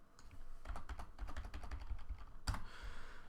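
Rapid typing on a computer keyboard while writing code, a quick, uneven run of close, soft clicks and taps, with one heavier keystroke near the end, quiet and with no talking.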